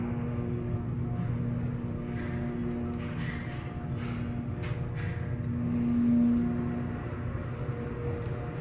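A 2008 MEI hydraulic elevator's motor runs steadily at Raleigh-Durham International Airport's Terminal 2, giving a continuous low hum with a sustained tonal whine that swells briefly near the end.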